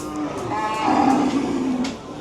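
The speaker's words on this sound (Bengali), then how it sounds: "ওখানে সম্ভবত বড় সাইজের গরু আছে।" A single loud, close moo from a cow at a busy Goalabazar cattle market, one drawn-out bellow lasting about two seconds over a background murmur.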